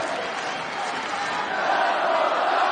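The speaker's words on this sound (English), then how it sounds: "this New Mexico crowd rises to a chant for the homegrown John Dodson" A New Mexico arena crowd in Albuquerque chants for hometown fighter John Dodson during an MMA bout, a broad roaring mass of voices that builds louder toward the end.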